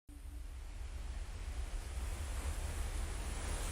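Ocean waves in the film Baahubali make a steady, full surf roar with a broad wash of noise that stays loud and constant throughout, and no voices.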